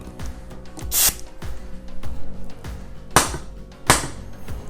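Sharp hissing bursts of compressed air from an HPA tank line being hooked to an airsoft sniper rifle, a Wolverine Bolt VSR-10 with Polarstar system, three loud blasts over faint clicks and handling noise.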